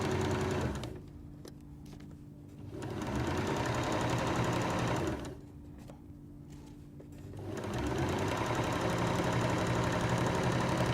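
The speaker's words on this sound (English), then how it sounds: "So sew all the way along this bottom edge" A sewing machine stitches along the bottom edge of a fabric coat hanger cover, loud steady whirring runs broken by two short pauses before the motor starts again.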